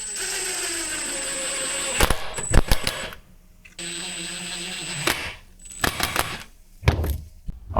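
A power drill drives screws into wooden bi-fold door jamb pieces, with steady whirring runs broken by sharp clacks and knocks of the wood and the tool being set down.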